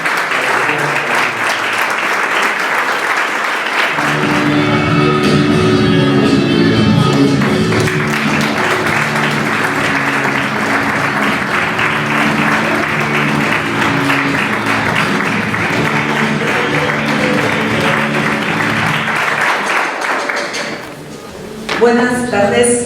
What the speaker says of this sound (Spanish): ahora vamos a recibir, por favor, un aplauso a Valeria, a Karina y a Pablo.